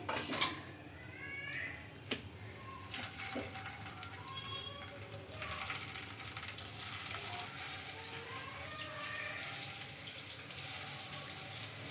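Chicken keema koftas frying in a pan of hot oil give a steady, bubbly sizzle that runs unbroken from start to finish, with a few sharper pops and crackles near the start.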